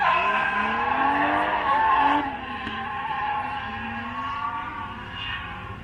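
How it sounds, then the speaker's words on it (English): A drift car slides with loud squealing tires over a high revving engine, the whine shifting and wavering as the car drifts, then easing slightly as it continues past. "Nice, good drifting."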